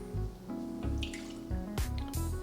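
Half a cup of whiskey poured from a measuring cup into a bowl of salmon glaze, a brief close liquid splash and trickle with a few drips.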